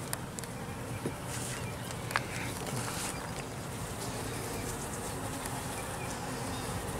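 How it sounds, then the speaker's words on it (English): Honey bees buzz inside a hive on a hot day, a faint, continuous drone with occasional louder passes of individual bees close by and a few small taps. "There's too many bees in here."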